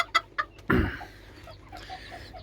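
A blue rooster clucks while being fed a spoonful of onion salad, with a few short sharp clucks followed by a louder, fuller call and softer murmuring clucks, close by and with no talking.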